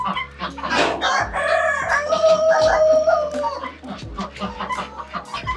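A rooster crows repeatedly at a bird-raising farm in Theni, with strong, drawn-out calls close by, plus clucking and other fowl sounds in the background.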